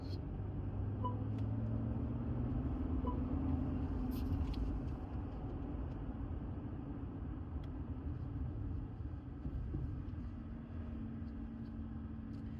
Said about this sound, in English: Doesn't even sound like a diesel car.